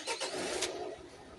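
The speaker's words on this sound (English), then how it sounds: "now we are going to start the van up" A Citroen Relay 2.0 diesel van starts up during DPF cleaning, a short cranking whir followed by the engine catching and settling into a steady idle, heard close and fairly quiet.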